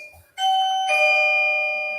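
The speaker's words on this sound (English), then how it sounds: "That's that sound right there. That's the bell letting you know, man." A doorbell-style ding-dong chime signalling the end of a game, two clear ringing tones with a long sustained fade, loud and alone.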